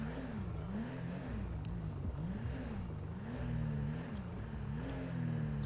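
A car engine in GTA V idles and revs in slow rising and falling waves while the car is being parked in the rain, a moderately quiet, steady hum with no talking.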